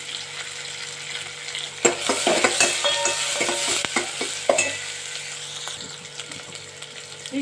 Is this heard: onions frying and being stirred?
yes